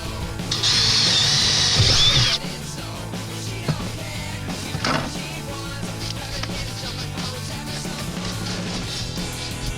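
A power driver whirs loudly for about two seconds as it removes screws from a 12V electrical board in a van conversion, followed by quieter clicks and handling noises.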